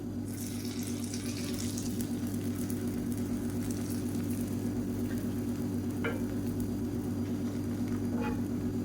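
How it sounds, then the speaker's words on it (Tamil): Beaten egg hitting a hot oiled griddle stone gives a steady, even sizzle that holds without a break, sitting over a constant low hum. "இப்போ நம்ம கலந்து வச்சுருக்க இந்த முட்டையை வந்து இதை அப்படியே ஊற்றிக்கலாம்"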